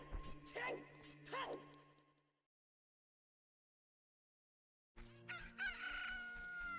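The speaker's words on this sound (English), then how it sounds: "Look, a chicken hatched, and also we're back in Kakariko Village." A rooster crows in Ocarina of Time's Kakariko Village, with two loud crows at the start, a stretch of silence, then a third long crow near the end, all heard with no talk over them.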